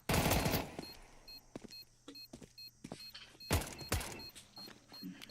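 Short bursts of UMP submachine gun fire in Counter-Strike, loud rapid volleys at the start and again midway, with scattered quieter shots and clicks between them.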